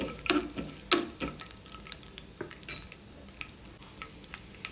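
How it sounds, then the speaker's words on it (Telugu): Chana dal and urad dal fry in hot oil, a soft sizzle broken by a few sharp clinks and scrapes of a spoon stirring in the pan. "ఆయిల్ వేడైన తర్వాత ఒక స్పూన్ పచ్చిశనగపప్పు అలాగే ఒక స్పూన్ సాయి మినపప్పు కానీ ఇలా పొట్టుమినపప్పు కానీ వేసుకోవచ్చు ఇవి కొద్దిగా వేగనివ్వాలి"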